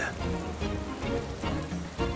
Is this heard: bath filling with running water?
no